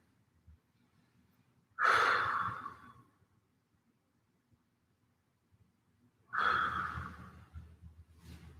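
Two slow, deep exhalations during a restorative yoga stretch on a mat, close and breathy, separated by a few seconds of near silence.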